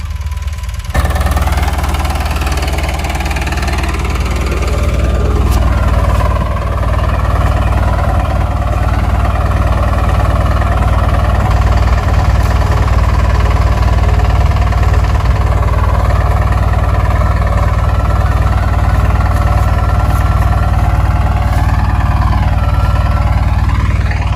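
A tractor engine runs steadily in a groundnut field, a loud continuous low rumble with mechanical vibration and knocking throughout, no talking.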